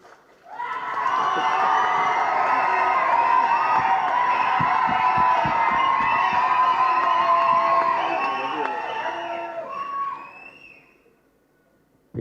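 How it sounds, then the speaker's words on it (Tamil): A large crowd at a Tamil film audio launch event for Vadakkupatti Ramasamy roars with sustained loud cheering, whoops and clapping. The noise fades out after about ten seconds. "பேரை சொல்லாமலே இவ்வளோ கைத்தட்டலாம்"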